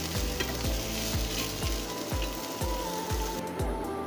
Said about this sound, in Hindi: इसको थोड़ा सा फ्राई कर लेते हैं